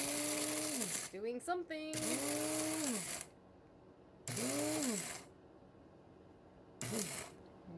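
A new electric coffee grinder grinds beans in several short, loud whirring bursts, with people talking over and between them.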